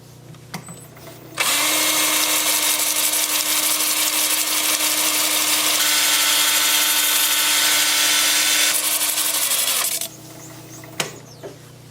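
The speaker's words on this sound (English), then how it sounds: "I'll also alternate the direction of my drill as I'm sanding" A power drill sands a turned laurel wood bowl, whirring steadily for about eight seconds, loud and close, with a slight change in pitch partway through, then stops.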